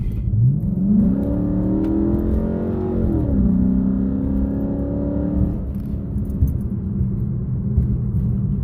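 A 2005 Chrysler 300C's Hemi V8 revs up to a rising, sustained roar, then settles back to a steady, deep idle. Loud and close, with no talk.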